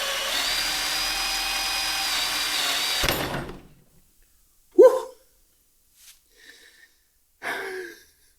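Power drill boring off the damaged Allen bolt head on a Honda VFR RC36-2 fork, a steady loud whining grind for about three seconds that stops abruptly, followed by a few brief faint knocks and clatters.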